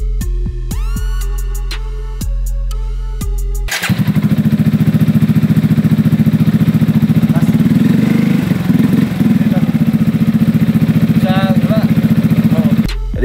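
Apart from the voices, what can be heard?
Yamaha XMAX scooter engine with Akrapovic slip-on exhaust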